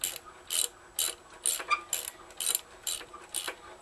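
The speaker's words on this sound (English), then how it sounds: "but it takes 13 mil socket to undo them." A ratchet fitted with a 13 mm socket works on bolts of a generator, giving close, crisp clicking bursts in a steady rhythm, about eight strokes in a row.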